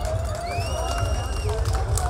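A crowd at an outdoor cannabis parade stage event in Berlin cheers and claps steadily, with a busy wash of distant voices and whistles continuing throughout.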